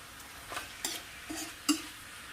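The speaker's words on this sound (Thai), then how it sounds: "ตัวนี้คั่วหนูครับผม" Rat meat stir-roasted in a pan, Isan style: a soft continuous sizzle with four or five quick scraping stirs, the last one sharper, alone and fairly quiet.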